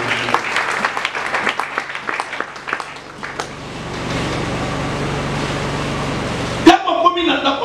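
A church congregation bursts into applause to acclaim the Lord during a sermon, a dense close clapping that settles into a sustained roar before ending abruptly, with voices talking over it at the start.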